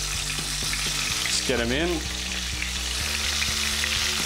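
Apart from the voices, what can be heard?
salt and pepper calamari frying in hot oil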